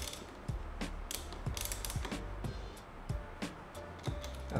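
Bolt snugged down with a ratchet on an Aprilia RS660 motorcycle: a run of close, crisp clicks repeating every half second or so, with light metallic creaks between them and no talking.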